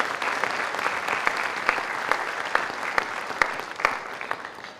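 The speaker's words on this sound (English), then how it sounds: "I'd like to give them a little round of applause for their support." Steady applause from a crowd at a high school awards night, dense clapping throughout with a few sharper individual claps standing out, fairly close and even in volume.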